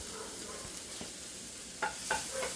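Collard greens, bell pepper, broccoli, cauliflower, tofu and onions sizzle in a stir-fry pan, with a steady hiss and a few scraping pushes of a spatula toward the end, close by.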